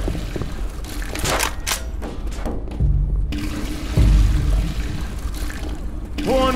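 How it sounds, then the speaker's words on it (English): Gas can being poured in the video game Left 4 Dead 2: a steady gurgling, sloshing pour runs through most of the stretch, mixed with game noise and thumps, ending in a rising tonal effect. "Pouring a can."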